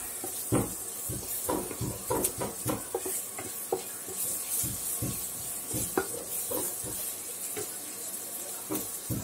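Chopped green chili dropped into hot oil in a pan for masala Maggi noodles, giving a steady close sizzle with repeated sharp stirring clicks and scrapes throughout.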